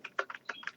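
Fingers type on a computer keyboard, about half a dozen quick, close key clicks in a fast irregular run, quiet and alone.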